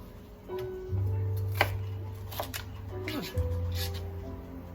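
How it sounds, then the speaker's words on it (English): A knife rough-chops vegetables for chitterlings on a cutting board, making a few scattered, sharp taps against the board, with a steady electric hum and a person talking throughout. "So another, again, a rough chop."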